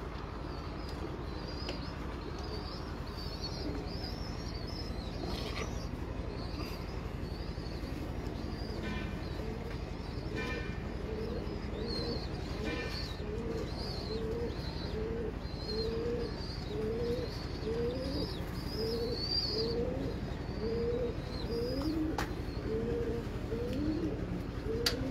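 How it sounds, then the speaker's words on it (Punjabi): Several pigeons coo repeatedly in a breeder's loft, with soft rolling calls that pulse in a steady rhythm. Occasional higher chirps sit over the near, continuous cooing, and no one speaks. "ਇਹ ਮੇਰੇ ਕੋਲ ਕਬੂਤਰ ਨੇ ਪੰਜ"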